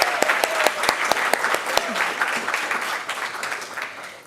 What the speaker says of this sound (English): so we can just give a round of applause for her being here.